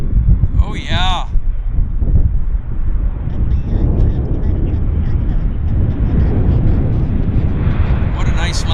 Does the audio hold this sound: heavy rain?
no